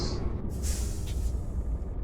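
Truck air brakes in Euro Truck Simulator 2 on a 1990s Mercedes Actros MP1, giving a brief hissing release of air over a loud, steady engine rumble.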